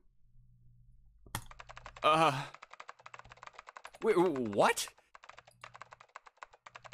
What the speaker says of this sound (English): You're typing so fast, I can't even see your fingers.